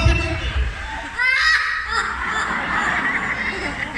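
Talking birds at a Cebu safari bird show give harsh, raspy squawking calls mixed with chattering vocal sounds, close and fairly loud, with people's voices around them.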